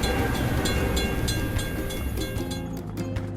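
A train in a construction video game rolls past a closed crossing with a steady rumble and rhythmic clacking that thins out toward the end, with no talk over it.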